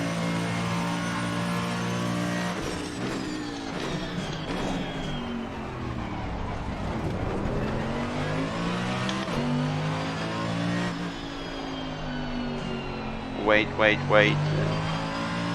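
A race car engine in Assetto Corsa Competizione at the Nürburgring revs and accelerates steadily through gear changes, loud and close, with someone talking briefly over it.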